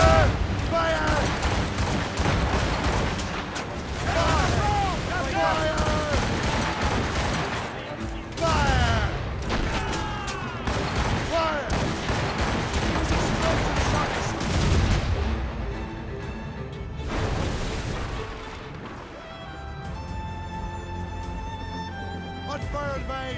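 Naval cannons fire during a ship battle in the video game Assassin's Creed Rogue, with loud repeated booms and blasts over music and shouting voices.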